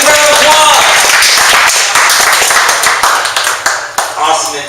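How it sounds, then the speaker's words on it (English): Networking meetup audience applauding a speaker at the end of a talk: fairly sparse, close hand claps from a small group, tapering off over a few seconds with people talking through it. "Give Shawn a big round of applause"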